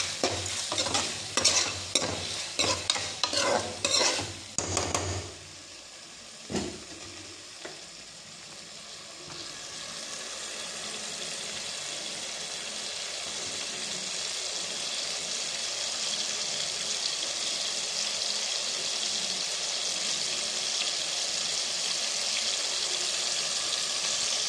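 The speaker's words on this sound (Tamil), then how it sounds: "சால்ட் ஆட் பண்ணிவிட்டு நல்லா அப்படி வதக்கி விடுறோம்." Tomatoes sautéed with salt in a pan: a burst of loud stirring clatter and scraping at first, then a steady, rising hiss of sizzling that continues alone, close by.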